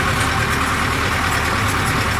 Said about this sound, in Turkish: Bilmiyorum traktör sesine sesim duyuluyor mu